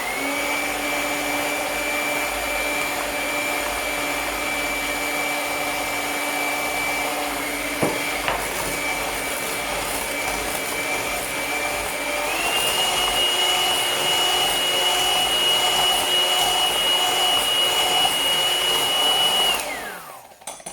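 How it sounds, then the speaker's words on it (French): An electric hand mixer beats cake batter with a steady, loud whirring drone that rises slightly in pitch partway through, then winds down as it is switched off. "On enlève le batteur, on prend le fouet normal."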